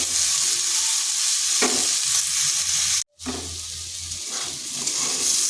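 Potato and pumpkin pieces frying in oil in a pan make a loud, close, continuous sizzle with stirring scrapes, interrupted by a brief silent gap midway.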